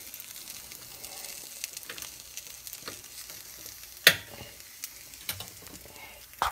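Eggs fry in a pan with a soft, steady sizzle, broken by a sharp utensil scrape or clack partway through and light stirring sounds.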